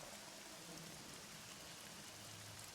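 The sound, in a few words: rain falling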